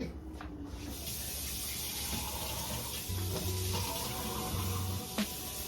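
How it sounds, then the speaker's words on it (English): Fish frying in a pan gives a steady, moderately loud sizzle and crackle that runs unbroken throughout, with a faint tap near the end and no talking. "I got to fry this fish"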